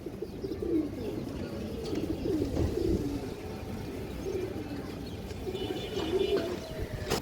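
Female pigeons at a pigeon sale coo softly in repeated low, rolling phrases, fairly faint against a light background hum, with no talking.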